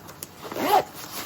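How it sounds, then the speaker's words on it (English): A two-way YKK Vislon plastic zipper without an automatic lock is pulled open by hand in one quick, close, fairly quiet ripping zip lasting under a second. "So here's just for fun to show you a zipper that doesn't have an automatic lock."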